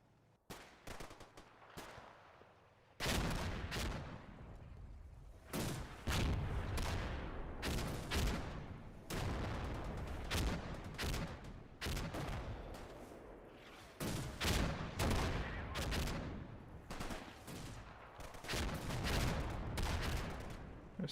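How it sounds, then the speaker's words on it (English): Gunfire rattles through a Red Thunder combat mission: sparse distant shots give way to repeated heavy bursts of automatic fire and sharp loud reports, with occasional deeper booms, dense and unrelenting for about twenty seconds. "I saw shooting over there."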